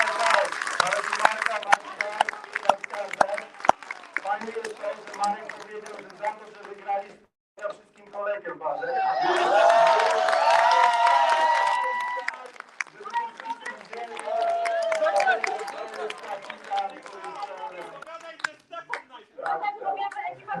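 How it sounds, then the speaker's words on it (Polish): Audience applause at a dance event, a clatter of clapping mixed with voices that rises to a loud cheering burst partway through and then settles back into scattered clapping. "Brawa za całe! brawa"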